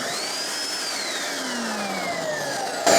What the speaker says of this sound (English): It's a nice powerful vacuum.